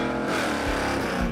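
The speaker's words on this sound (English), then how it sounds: "Oh, that was the clutch going away." The Wreck Runner race car runs at the track in terrible weather as its clutch gives out, a loud, steady engine drone with dense harmonics and low rumbling surges throughout.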